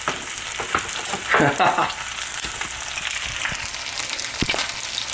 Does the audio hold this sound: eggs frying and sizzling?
yes